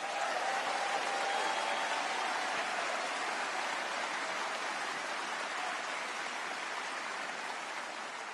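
Large crowd applauding the Premier of New South Wales, Chris Minns, at a Sydney Jewish community gathering, a dense even roar of clapping throughout, moderately distant.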